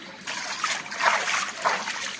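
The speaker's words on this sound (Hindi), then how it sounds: "हाँ साफ पानी है यहाँ, बिल्कुल साफ आ ही रहा है पानी।" Clean water trickling and flowing at a temple site, a steady soft gurgle with light splashing heard close by and on its own.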